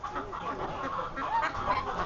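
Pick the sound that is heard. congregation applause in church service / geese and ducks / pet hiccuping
geese and ducks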